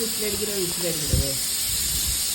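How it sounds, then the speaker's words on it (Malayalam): A pressure cooker hisses steam while beef cooks inside, a continuous close, loud hiss under brief talking. "കുക്കറിൽ വിസിലടിക്കണോ"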